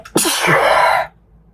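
A single sharp, explosive sneeze with a quick inhaled lead-in, loud and close, then silence.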